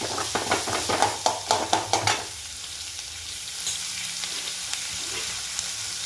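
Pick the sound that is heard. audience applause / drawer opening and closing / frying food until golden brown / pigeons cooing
frying food until golden brown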